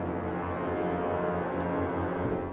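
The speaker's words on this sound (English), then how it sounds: "And you get these nice orchestra sustains here" An orchestra sustain from the ProjectSam Pandora sample library holds one chord, dense and steady, at moderate volume without any change.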